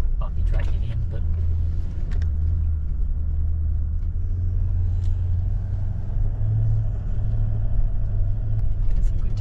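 A vehicle rolls over a hard, bumpy dirt track, a continuous low engine rumble with irregular knocks and rattles from the rough ground, close and steady, with people talking over it.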